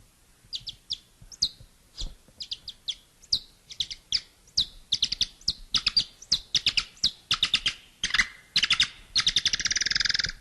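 Bird songs slowed to half speed: a quick series of clear whistled chirps and trills, each note separate with short gaps, growing denser and buzzier near the end, close and clean with no talking.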